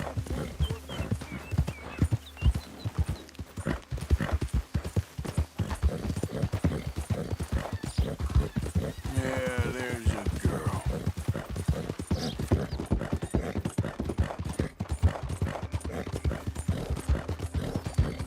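Horse hooves clip-clop in a roleplay video game, a steady, fast rhythm of close hoofbeats running throughout, with a whinny partway through.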